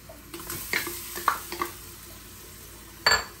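Chopped onion and small pieces of meat frying in a pot, with a low, faint sizzle broken by a few sharp clinks of a utensil against the pot, and one louder scrape near the end.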